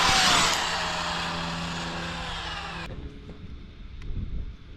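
A Traxxas X-Maxx RC monster truck with upgraded shocks and Mod 1.5 GPM racing gears goes full throttle, its loud high-pitched motor whine sweeping down as it speeds away before cutting off abruptly, leaving quiet outdoor ambience.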